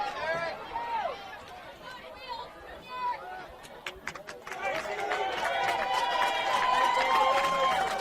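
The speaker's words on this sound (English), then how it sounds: "The Judge crowd giving their team an ovation after that battle" Boys lacrosse crowd at a Judge game gives its team an ovation after a loose-ball battle, with cheering and clapping that swell and hold steady across the second half, amid crowd chatter.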